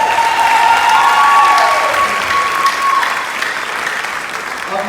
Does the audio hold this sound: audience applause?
yes